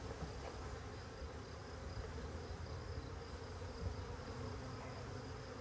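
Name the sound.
package honey bees buzzing as they are dumped into hive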